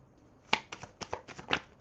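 Oracle cards shuffled at close range, a quick series of crisp riffling snaps, with the loudest bursts near the middle and end.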